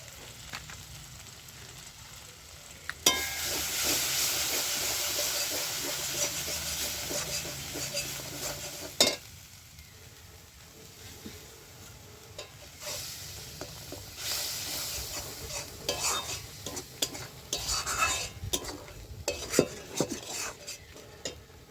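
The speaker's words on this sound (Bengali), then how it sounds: "তো দেখুন মশলা থেকে তেল ছেড়ে গেছে, মশলাটা আমার ভালো করে কষানো হয়ে গেছে।" Masala is stirred and fried in a pan for a potato and pointed gourd curry, giving a soft hissing sizzle with scattered spoon clinks and scrapes, some louder strokes, fairly quiet overall and without speech.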